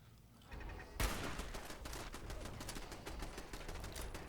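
Sustained machine gun fire from the Fallout 4 video game, a dense rapid stream of shots starting abruptly after a brief lead-in and continuing loudly to the end, with no talking.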